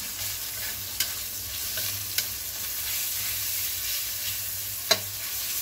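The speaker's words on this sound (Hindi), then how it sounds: "अभी इसमें मैं ऑनियन डालूंगा। ऑनियन को भी थोड़ा अच्छे से फ्राई कर लेंगे।" Onion frying in hot oil with ginger and garlic for soya vegetable rice: a steady close sizzle with a few sharp spatula taps against the pan, no voices.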